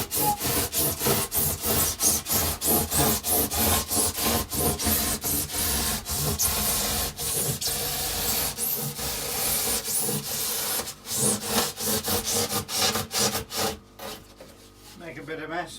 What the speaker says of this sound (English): So chamfer off this back edge and we should be good to go.